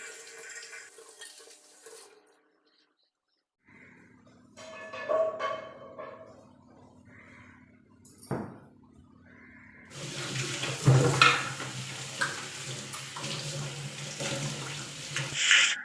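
Running water from a tap splashes intermittently while a mixer grinder jar is washed, with short bursts and pauses, then flows more steadily and loudly near the end, with some clinking.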